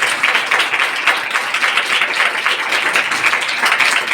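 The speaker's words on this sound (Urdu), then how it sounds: "آئیے خدا کے کلام کے لیے زوردار تالیاں بجائیں" A church congregation applauds warmly at a Sunday service, a dense and steady wash of many hands clapping together for several seconds.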